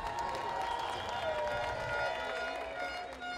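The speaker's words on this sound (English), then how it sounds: "Clap him again," An audience at a Jamrock reggae sound clash held aboard a cruise ship applauds and cheers, a quiet, distant-sounding crowd mixed with music tones and some voices.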